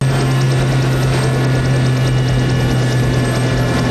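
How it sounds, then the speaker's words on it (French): A helicopter arrives at an airport in the action film Passenger 57, its rotor thumping in a rapid, steady chop with a loud, constant drone beneath, no voices over it. "c'est Tom Sizemore qui arrive en hélico à l'aéroport"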